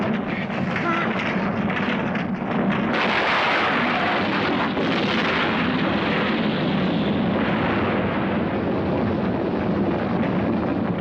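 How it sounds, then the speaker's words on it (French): A huge explosion in a 1984 action film roars as a loud, sustained rumbling blast that swells and stays dense for several seconds, with no clear talk over it. "Viens, tout va exploser!"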